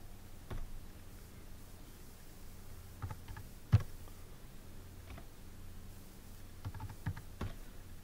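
Numbers keyed in on a computer keyboard while entering figures into an Excel spreadsheet, heard as scattered soft key taps with a few sharper clicks, close and quiet over faint room hiss.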